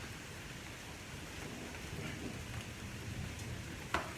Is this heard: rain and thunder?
yes